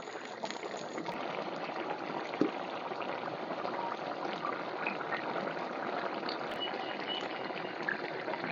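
Red amaranth greens and mixed vegetables boil in plenty of water in a cooking pot, giving a steady, continuous bubbling and simmering hiss that stays even throughout, close by and with no talking.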